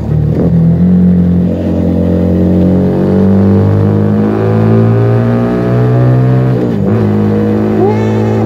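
A Keeway SCR 250V motorcycle with a Mavionic aftermarket exhaust revs hard and holds at high RPM with a deep, dense exhaust roar, pitch shifting as the throttle moves, loud and close.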